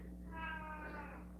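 An upset cat lets out a single drawn-out, strained meow from another room, faint and muffled but distinct.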